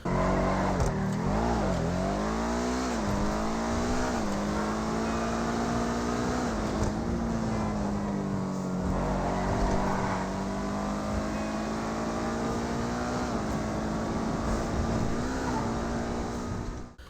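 Engine of the Obey 10F car in a video game, droning and revving continuously as it drives around, pitch rising and falling with gear changes, loud and alone throughout.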